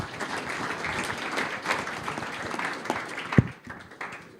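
Applause from the audience of a breakout session, a dense, steady patter of many hands clapping at moderate distance for several seconds, with one sharp louder clap near the end before it thins out.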